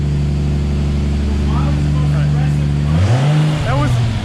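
A Toyota Supra engine running on a dyno, a loud steady drone that swoops up sharply in pitch near the end as it revs, with voices talking over it.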